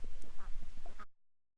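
Farm ducks quack in a quick burst of nasal calls close by, and the sound cuts off abruptly into silence.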